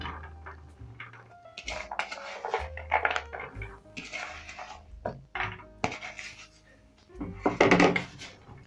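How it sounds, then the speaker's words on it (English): Drained groundnuts are spread in a single layer on a tray, producing scattered rattling, clattering and scraping as nuts roll and tumble against the surface, in irregular bursts with a louder flurry near the end. "Then I'm going to spread them here and ensure that each groundnut is on a single layer"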